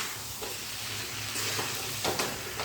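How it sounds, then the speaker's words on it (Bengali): Mango pickle with sugarcane jaggery is stirred in a pan over a medium-high gas flame, a continuous soft sizzle and hiss with scraping stir strokes and a few louder bursts near the end. "এবারে গ্যাসের ফ্লেমটা মিডিয়াম টু হাই রেখে এই গুড়টা আমের সঙ্গে খুব ভালো করে মিশিয়ে নিতে হবে।"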